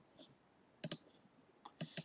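Computer mouse clicked in quick pairs, two crisp double-clicks close to the mic and faint against near silence, with a lighter single tick between them.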